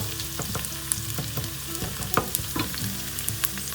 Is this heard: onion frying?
yes